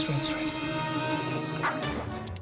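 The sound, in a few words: dog whimpering and yipping in Greenies dental treats ad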